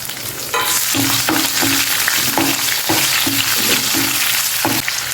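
Green chillies and curry leaves fry in hot oil for a brinjal curry, a steady loud sizzle with repeated stirring scrapes at an even rhythm.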